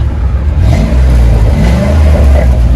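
A 2006 Ford Expedition with its 5.4L V8 and Flowmaster 40 Series exhaust revs hard up close, a loud deep rumbling roar that swells and holds throughout.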